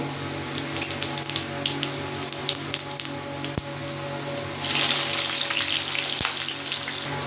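Whole spices and tomato fry in hot oil for a mutton kosha, a steady close crackle that swells into louder, hissing sizzle about halfway through, with a few sharp pops.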